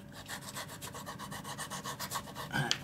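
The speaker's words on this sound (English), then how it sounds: "I'm spending the most time sanding anything of the past several years on a ridiculous Dollar Tree Cork ping pong paddle" Sandpaper scrubbing a Dollar Tree cork ping pong paddle in quick, regular back-and-forth strokes, close and steady, with a brief knock near the end.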